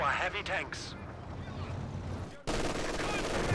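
Machine gun fire in the Company of Heroes 2 real-time strategy game, with bursts of rapid shots over dense battle noise and rumbling that continues throughout, cut by a sudden jump in the sound partway through.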